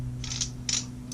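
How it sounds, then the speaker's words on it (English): An exhaust baffle removal tool for an Akrapovic exhaust on a Yamaha MT07 is screwed together by hand, giving a few soft ratcheting, gritty metal scrapes over a steady low hum. "Just screw the tool together"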